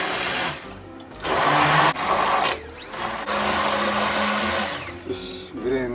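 A kitchen blender whirs loudly, blending cooled cooking ingredients at home, its motor pitch rising and dipping through short pauses and steady stretches of grinding.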